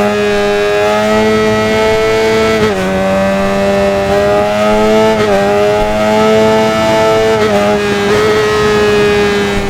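Kawasaki ZX7RR 1990s superbike engine in the RIDE racing game, a loud steady high-pitched rev with shifting gear changes around every two to three seconds, close and continuous with no talk.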